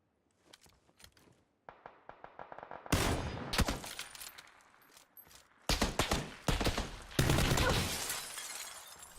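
Gunshots in PUBG, with sharp cracks of close rifle fire in quick irregular bursts, quiet at first and then loud and rapid, some with a shattering ring.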